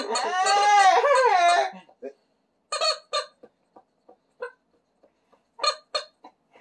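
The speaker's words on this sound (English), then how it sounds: "Chicken." A chicken gives a run of short, close clucks and squeaks after a stretch of loud, warbling voice-like calling; the clucks come in scattered bursts with quiet gaps between them.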